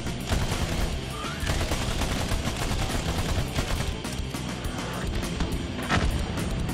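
Dense, continuous video-game gunfire from Battleborn as a player shoots at a large block of ice, a steady barrage of overlapping shots with booming impacts running throughout, loud and close, with no talk.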